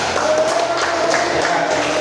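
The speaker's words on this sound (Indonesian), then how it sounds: "Tepuk tangan dong untuk Sapana" Scattered applause from a classroom of students during a Quran lesson, a soft, steady patter of many hands clapping at moderate distance with faint room noise.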